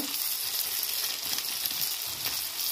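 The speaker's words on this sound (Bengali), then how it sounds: "সিমটা হালকা করে ভেজে নিচ্ছি।" Flat beans (sim) frying in a pan for a Bengali sim chingri shrimp dish, giving a steady, close hiss and crackle of oil throughout with faint stirring and no talk.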